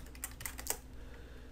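Keystrokes on a computer keyboard while entering text for an After Effects title, a few quick clicks in the first second then quiet, close and fairly faint.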